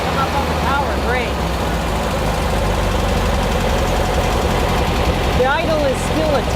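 A Beck 550 Spyder replica engine idles a touch high, a steady close rumbling drone with faint mechanical ticking, while voices talk briefly over it.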